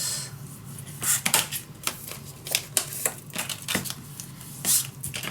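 A cut piece of paper is folded around for a handmade travelers notebook, making close, crisp rustles and quick creasing scrapes in an irregular run.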